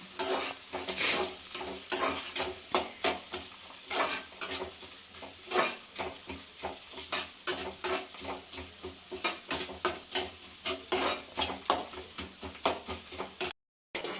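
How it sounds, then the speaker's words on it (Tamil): Carrots frying in a pan, stirred steadily with a utensil: repeated scraping clinks and pan knocks over a continuous sizzle, close and moderately loud. "கேரட் போட்டு அதையும் நன்றாக கிண்ட வேண்டும்"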